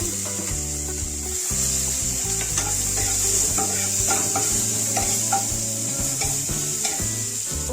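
Chopped onion frying in a pan of oil for a masala pulao, a steady close sizzle under repeated stirring and scraping with a utensil, continuous and fairly loud throughout.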